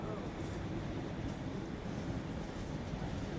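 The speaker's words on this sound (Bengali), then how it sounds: "এবার ট্রেনটা ছেড়ে দিয়েছে চলছে" A steady low rumble of a train pulling away and rolling along, a continuous broadband roar with no distinct clacks, holding level throughout.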